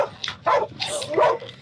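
A police canine barks and yelps in quick, close, agitated bursts, four sharp calls in about a second and a half, with no talk over it.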